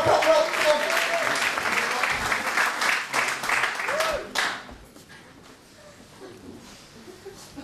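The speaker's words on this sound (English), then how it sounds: "Start the clapping." Audience applause at a comedy club as a stand-up comedian is welcomed to the stage, a steady wash of clapping with a few whoops for about four seconds, then fading to a quiet room murmur.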